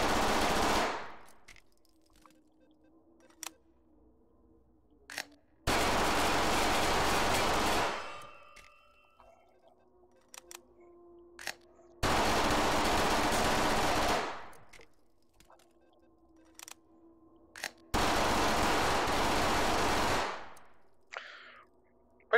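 Akimbo guns in the VR shooter Hot Dogs, Horseshoes & Hand Grenades fire in four long, loud full-auto bursts separated by quiet gaps filled with clicks and reloading clatter.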